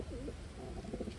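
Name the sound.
pigeon cooing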